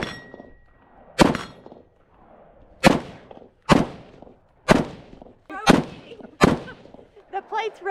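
CMMG BR47 rifle firing at a rotating steel target plate outdoors, about seven sharp, loud shots spaced roughly a second apart, each followed by a ringing metallic clang of the plate, with faint ambient noise between.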